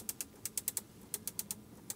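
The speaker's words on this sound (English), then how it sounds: "Clicking sound, listen to that." The knurled metal air vent control in a 2022 Bentley Bentayga S is turned, producing a quick run of about a dozen crisp, light detent clicks close up in a quiet cabin, with no voices.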